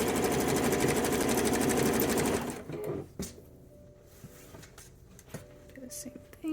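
Sewing machine stitching elastic onto a teddy seam, a close, steady whirring run for about two seconds that stops abruptly, followed by quiet fabric handling and small clicks.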